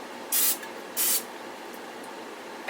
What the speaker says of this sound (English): So next I'm going to add some olive oil spray just to coat the pan.